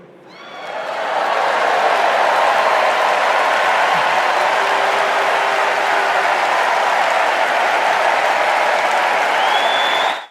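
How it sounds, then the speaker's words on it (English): A large crowd at the 2024 Democratic National Convention breaks into sustained, loud applause that swells within the first second and holds steady as a dense wall of clapping and cheering. "They will clap for anything."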